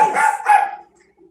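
Two quick, loud barks from a nearby dog come close together, then the sound drops to near silence.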